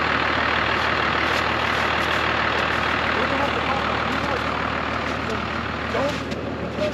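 A vehicle engine revs steadily under strain while trying to climb icy snow, a loud continuous drone with wind-like noise, as people talk over it.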